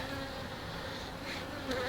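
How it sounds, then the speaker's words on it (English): Honey bees buzzing steadily around a hive outdoors, a continuous close insect drone that swells slightly near the end, with no talking. "the bees are starting to come alive"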